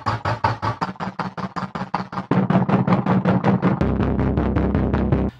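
Deep rumbling bass made from a truck recording pitched down, pumping in a steady heavily sidechained rhythm of repeated swells that grow denser and louder partway through, alone with no voices.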